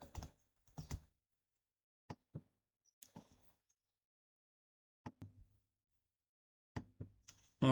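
Quiet, sparse keystrokes on a computer keyboard as text is entered into a spreadsheet cell, with isolated clicks and short bursts separated by silent pauses.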